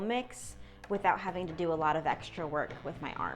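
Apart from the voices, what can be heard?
None of the usual background noises is heard.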